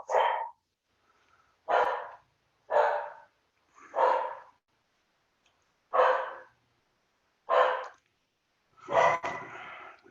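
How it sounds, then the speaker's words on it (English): Dogs bark repeatedly, with about seven sharp, loud barks spaced roughly a second or two apart over near silence. The last bark is rougher and longer. "The dogs are driving me nuts."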